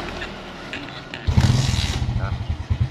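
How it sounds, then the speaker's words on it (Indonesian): A Honda Smash motorcycle with a sputtering fault that won't take throttle is started and settles into a steady, pulsing idle, close and moderately loud, after a quieter stretch of background noise. "Kita coba dulu nyalakan dulu motornya seperti ini."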